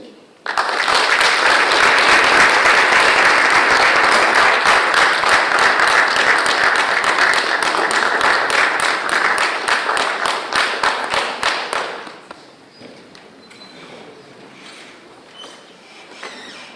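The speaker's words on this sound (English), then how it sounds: "let us give our another round of applause" A conference audience gives a loud, sustained round of applause for about twelve seconds, dense clapping filling the room before it tapers off into quieter scattered claps and room noise.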